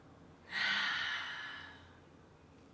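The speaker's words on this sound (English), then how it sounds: "Two more breaths." One long, soft exhale during a yoga back-bend flow, a breathy sigh that swells quickly and then fades slowly over about two seconds, faint and close with no speech.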